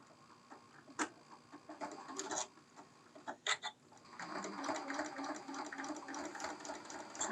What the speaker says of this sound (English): So I'm going to start out and do a little back stitch.